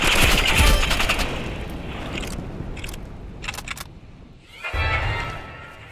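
Assault rifle fire in the Roblox video game: a loud, dense burst of rapid shots at the start that thins into scattered bursts, then a short lull before another loud burst near the end.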